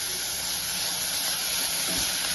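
Onions and green chilies sautéing in a hot pan for palak paneer, a dense continuous hiss and sizzle, close and steady with no talking.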